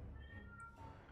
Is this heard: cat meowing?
yes